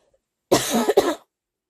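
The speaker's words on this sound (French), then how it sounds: "Je tousse." One short, close cough in a quiet room, a single burst of about three quick spasms, with silence before and after.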